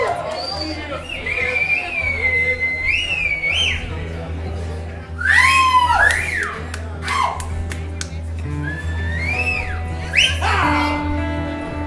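Several people in a concert crowd whistle loudly with rising and falling pitch-sliding whistles over chatter and cheering, close by and lively.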